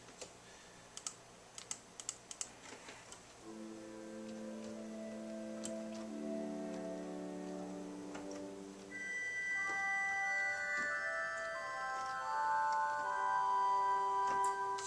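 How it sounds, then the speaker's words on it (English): Bright, sustained harmonic flute tones at 4-foot pitch on the Willis pipe organ of Salisbury Cathedral play a slow melody, alone and clear, moving up into a higher register midway with a soft mechanical clicking early on. "at 4 foot pitch, a harmonic flute"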